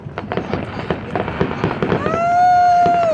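Fourth of July fireworks over Tempe Town Lake in Tempe, Arizona, a rapid string of pops and crackling bursts followed by a rising whistling shell, loud and continuous across the clip.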